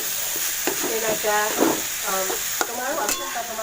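Ground pork giniling stir-fries in a pan for a home-cooked pork and peas dish, a steady close sizzle running throughout with spatula scrapes and stirring clatter, and some talk in the background.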